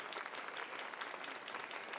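A convention panel audience applauds steadily at moderate distance. The clapping is dense and even, with no one speaking over it.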